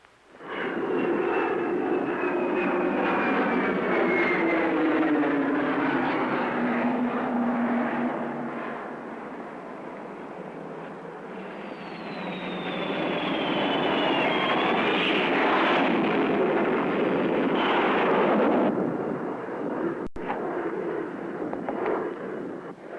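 Airliner engines roaring at an airport, a loud sustained jet whine that swells, dips around the middle and builds again, with a rising high-pitched turbine whistle toward the end.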